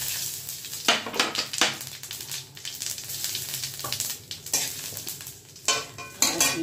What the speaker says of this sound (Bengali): জিরে আর তেজপাতা ফোড়ন।